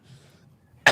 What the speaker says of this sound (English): Let him finish coughing